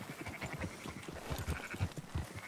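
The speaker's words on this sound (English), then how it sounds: "Marston, why don't you leave the sheep to me?" Sheep bleat repeatedly in a Red Dead Redemption 2 herding scene, several overlapping calls at a moderate, steady level over ambient game sound.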